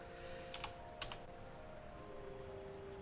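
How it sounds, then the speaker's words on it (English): Quiet, steady typing on a new PC's computer keyboard, soft key taps under a constant low hum, with a couple of slightly sharper clicks near the middle. "New PC does not like me typing slash commands"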